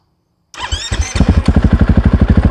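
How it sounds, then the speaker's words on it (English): A motorcycle engine starts up, sputters, then settles into a loud, close, rhythmic pulsing run, each firing beat distinct and steady. "This motorcycle makes me feel like an adolescent again, right?"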